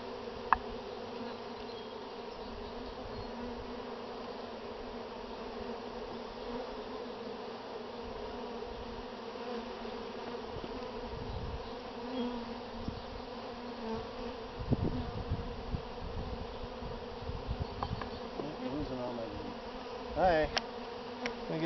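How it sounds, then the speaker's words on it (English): Honey bees buzz steadily around a mini mating nuc while a queen cell is put in, a continuous low drone with scraping and handling noises from a hive tool growing busier toward the end. "There's a good clump of bees right on the front there."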